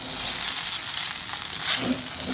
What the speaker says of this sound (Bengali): ভাজা কাজু, কিশমিশ, নুন, গাজর, ক্যাপসিকাম সবগুলো দিয়ে একসাথে ভালোভাবে নেড়ে ভালোভাবে মিশিয়ে